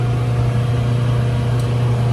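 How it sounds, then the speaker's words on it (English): Exhaust fan on an electroforming tank setup running steadily, a loud, constant motor hum with a strong low drone and broadband airflow noise, unchanging throughout. "There's the exhaust fan."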